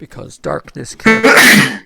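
A single loud, close sneeze bursts out right after a person finishes speaking, during a Minecraft game stream.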